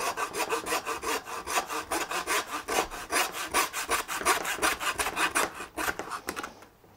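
A hand saw works through lamb bone while a carcass is butchered, with rapid, even rasping strokes close by that keep a regular rhythm for several seconds before trailing off at the end.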